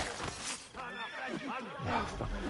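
A horse whinnies in Assassin's Creed Brotherhood, its neigh rising and falling over busy background noise and a voice.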